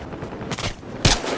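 A single scoped rifle shot in Battlefield Hardline lands as a brief, moderately loud crack near the end, over a steady wash of ambient game noise.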